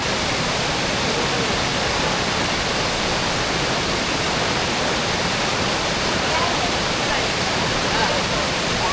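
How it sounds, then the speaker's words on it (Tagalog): Picao Falls waterfall pours with a strong current, a steady, loud, broadband rush of water that fills the whole scene without pause, close by and unchanging. "Malakas yung agos."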